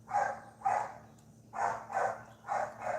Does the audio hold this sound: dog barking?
yes